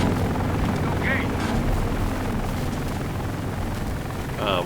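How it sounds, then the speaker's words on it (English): Orange helicopters in the adventure game Secret Files 3 give off a steady, loud rotor rumble with a low droning wash that fills the whole stretch, with a couple of short higher tones breaking through. "What's with the orange helicopters?"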